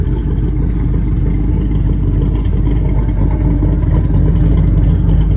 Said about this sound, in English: We're gonna test drive the Prius.